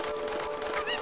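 Honking, squawking fowl cry from a Cucco chicken in the Zelda Ocarina of Time video game, loud and continuous over about a second with a rising squeal near the end.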